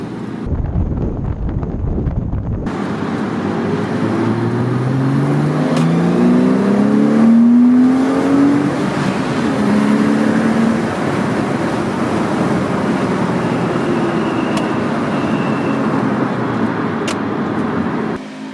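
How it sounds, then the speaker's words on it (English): A Porsche Boxster S 987 with a naturally aspirated engine revs and accelerates, its rising engine note sweeping upward and then easing, heard loud and close under heavy wind buffeting for a sustained stretch. "Naturally aspirated engines, the sound they produce is just beautiful."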